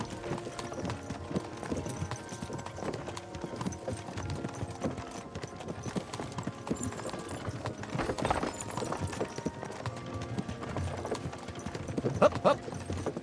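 Horse hooves clip-clop in Kingdom Come Deliverance II, a steady trotting rhythm on a road under game music and ambience, with a brief snort and a voice speaking at points.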